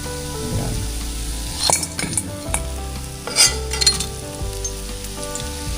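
Milkfish frying golden brown in hot oil, with a steady sizzle under stirring and several sharp clinks of a metal utensil against the pan, close and fairly loud, no talking.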